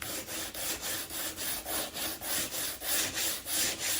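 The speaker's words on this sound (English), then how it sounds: "I'm just going to take some sandpaper because I didn't leave very clean edges when I was cutting" Sandpaper rubbed by hand along the rough-cut edges of a wooden piece, a steady back-and-forth scraping repeated about twice per second, close and fairly loud, with no talking.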